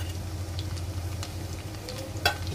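Garlic frying with cumin seeds in hot oil for palak paneer, a steady close sizzle with a few crackles and a brief louder pop near the end, no talking.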